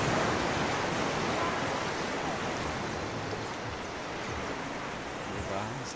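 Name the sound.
strong ocean waves at Bauang beach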